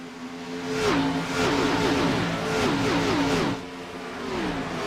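A pack of virtual stock cars in an Xfinity Series video game race at Las Vegas Motor Speedway roars close by, engines rising and dropping in repeated gear-shift sweeps with no voices.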